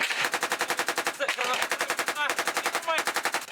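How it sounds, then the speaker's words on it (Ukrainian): Rapid machine gun fire rattles in fast, steady bursts on the front line at Avdiivka, with brief gaps between strings of shots, moderately distant. "І вони постійно стріляють з кулеметів"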